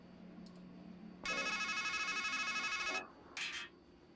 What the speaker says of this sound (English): It's a payphone.